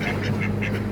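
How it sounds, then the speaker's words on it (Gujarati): Ducks, including pheasant-type and peacock-type breeds, quacking in a village zoo park, a steady run of nasal calls repeating every fraction of a second over a constant low hum. "તમે જોઈ શકો છો આ તેતર બતક પણ છે."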